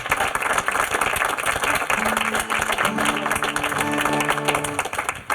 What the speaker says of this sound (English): I'd like for everybody to give this band a round of applause